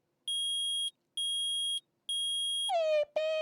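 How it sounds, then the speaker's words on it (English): Electronic metal detector in the Phoenix Wright: Ace Attorney courtroom game beeps three times in an even rhythm of steady clean tones, then gives a louder warbling alert tone, with no talking. "I permit the use of the metal detector."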